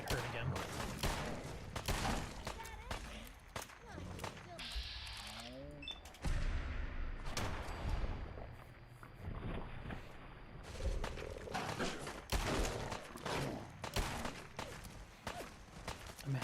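Pistol gunfire in Fallout 4 combat: a run of sharp, closely spaced shots and mechanical clicks, with rapid cracks clustered at the start and end, fairly quiet overall, with a voice talking at times.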